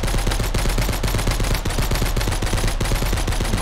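Continuous rapid assault rifle fire in a video game, loud and close, a relentless automatic burst with barely a pause.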